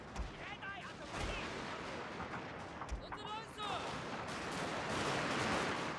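Needle-fire rifle volleys in the Imperial Might strategy game, with massed battle din, crackling musket-like shots and distant booms running continuously, and voices shouting within the mix.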